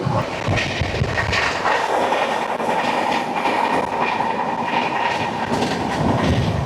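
The Kaziranga Express from Kolkata to Guwahati rolls along with a steady, loud rumble and a rhythmic clickety-clack of wheels over rail joints, heard from inside the moving train with no talking.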